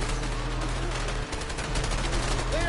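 Dense, steady gunfire from the video game A Way Out, a continuous crackling barrage with a brief dip in the middle and no talk.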